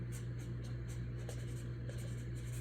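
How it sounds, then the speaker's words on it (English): A pen scratches out a short note by hand, soft repeated strokes over a steady low hum in a quiet room. "So I'm gonna write that down."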